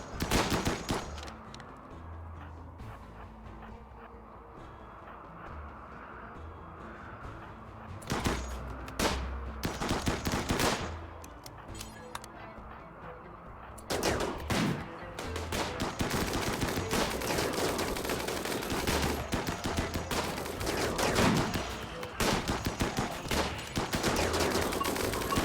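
Gunfire from colonists in the RimWorld video game: dense, continuous bursts of shots and rattling fire run through the whole clip, layered with game noise and no talk.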